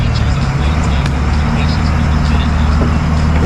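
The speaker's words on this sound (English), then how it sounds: "Man, loud ass truck." A loud pickup truck engine roars steadily and close by on a street, a constant heavy rumble filling the whole stretch, with a faint voice underneath.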